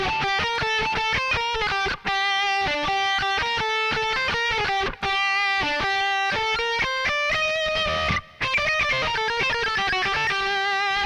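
Acoustic guitar plays the fiddle tune Big Sciota reworked as a metal tune: a steady stream of fast picked melody notes with brief gaps between phrases, bright and close with no voices.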